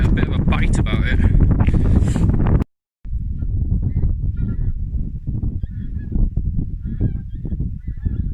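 Gusty wind buffets the microphone on an open Lake District fell, loud and broadband at first, then dropping to a lower rumble after a short gap while faint goose-like calls and speech sit over the top.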